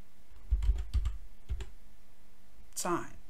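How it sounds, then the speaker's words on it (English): A few quick keystrokes on a computer keyboard enter the DOS command time, followed by a sharper clack at the end, close and fairly quiet. "we need to type the command known as time"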